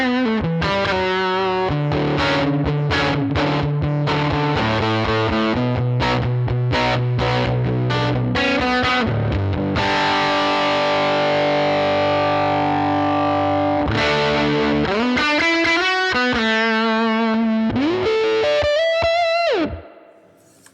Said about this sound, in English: Distortion, white boost. Okay. Let's see what that does. Analog warmth.